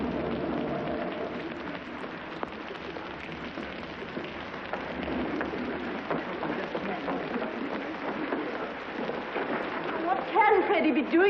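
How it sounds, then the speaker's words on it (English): Steady heavy rain pours down during a stormy scene in a 1938 film, a dense wash of noise with voices talking over it and a few brighter tonal sounds near the end. "Looks like rain."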